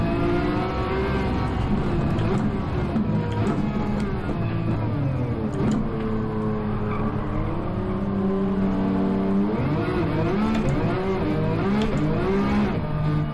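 A race car engine in Gran Turismo 7 drones loud and steady, its pitch climbing under acceleration and dropping at gear changes and for corners, with no break and no voices.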